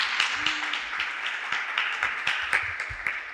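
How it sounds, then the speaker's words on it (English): Audience applause at a Black Student Union culture show, steady clapping from a crowd of many hands sustained throughout, with scattered louder claps close by. "Can I get a round of applause for all the Black people in the room"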